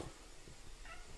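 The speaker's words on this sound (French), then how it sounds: "on a un petit chat là qu'on va pas trop déranger" A small cat meows near a sink in a house full of animals, a short close call heard alone over a faint room hum.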